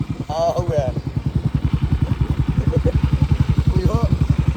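A motorcycle engine chugs steadily at close range with a fast, even putter while a goat rides along on it, and voices speak briefly over the engine noise.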